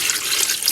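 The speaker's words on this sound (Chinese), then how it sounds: "倒入汤汁" Broth splashes and streams briefly into a pressure cooker holding pork skin set on a steaming rack, a short, bright, continuous pour.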